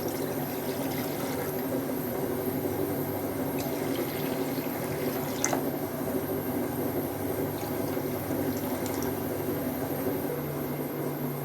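Water coloured with kesari powder pours steadily into a pan for rava kesari, a continuous close splashing trickle with a faint hum beneath it, no talking.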